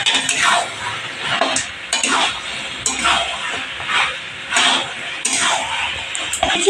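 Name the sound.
goat meat being stirred and fried in spices with yogurt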